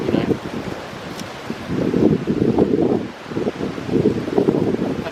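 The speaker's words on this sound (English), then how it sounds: "this seems to be one of the windiest places on the planet" Gusty wind buffets the microphone on a very windy ocean coast, a continuous low rumble that swells and eases in irregular surges.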